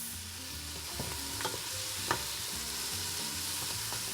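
Vegetables sauté in olive oil in a pan for Madras curry, giving a steady soft sizzle with a few scrapes and clinks of stirring. Nobody speaks.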